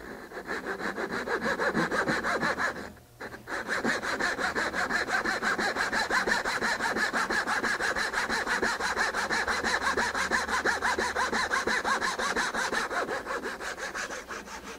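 A hand saw cuts a dovetail in wood down to a scribe line, giving a close, steady rasping of rapid back-and-forth strokes that pauses briefly once and then resumes, with no speech.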